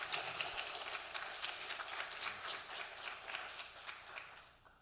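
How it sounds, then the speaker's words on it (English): An audience at a library lecture applauds a speaker: a dense, fairly faint and distant patter of many hands that stays steady, then fades out near the end. "an applause for giving the history that we didn't know"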